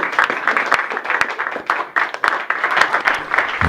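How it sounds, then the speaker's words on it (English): A round of applause from a small group, steady dense clapping throughout, fairly close and with nothing else on top. "Yeah, round of applause then."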